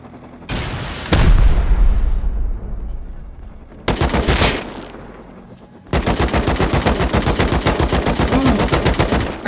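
Loud video game gunfire: a few heavy single shots with ringing tails, then a sustained rapid automatic burst, close and dominant.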